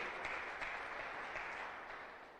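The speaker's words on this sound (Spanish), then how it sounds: "¿Le das una ofrenda de palmas al Rey de Reyes?" A church congregation applauds together as an offering of praise, a steady dense wash of many hands clapping that holds evenly for a couple of seconds and then slowly tapers, fairly soft and distant.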